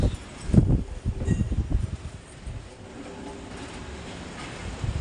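Gusts of a dry spring storm buffet and rumble close by, rising and falling in loud bursts with rustling leaves, then easing into a steadier whoosh.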